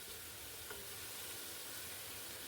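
Onions frying in a pan for a tomato rice dish, a faint, even sizzle and hiss with a light stir, steady and unbroken, no talk.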